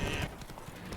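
Horse hooves clip-clop in The Witcher 3: Wild Hunt, a steady close rhythm of hoof strikes at loud, even level with game ambience underneath.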